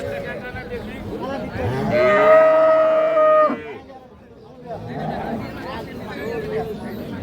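Holstein Friesian cattle at a rural livestock market give one long, loud nearby moo, with men chatting before and after it.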